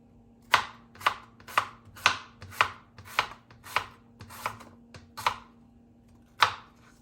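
A knife slices apple pieces on a cutting board, making about a dozen crisp, evenly spaced chops up close, with a steady low hum underneath and no talk.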